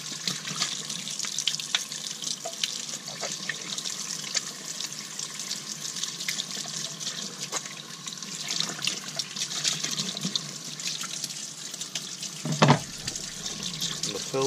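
Hot water from a tap streams over a Graco Ultra cordless handheld airless sprayer cup in a sink, a steady close splashing rush with brief clunks and a louder splash near the end.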